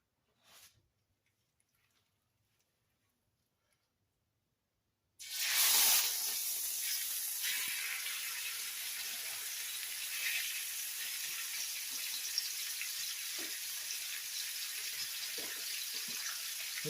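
A pot roast lands in a hot skillet after a few seconds of near silence, then a loud, steady searing hiss fills the rest of the stretch, close and unbroken, with no voices.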